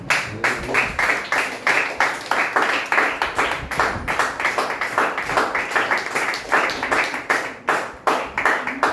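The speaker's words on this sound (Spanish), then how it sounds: "Denle aplauso al Señor" A church congregation claps in praise to the Lord during a sermon, a steady rhythmic run of loud, close handclaps lasting throughout with no talk over it.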